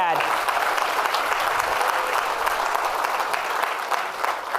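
A prostate cancer patients and caregivers conference audience applauds a speaker, a steady, moderately loud round of clapping from a large room, with some voices mixed in.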